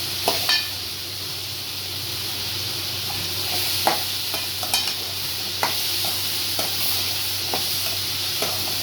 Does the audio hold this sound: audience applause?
no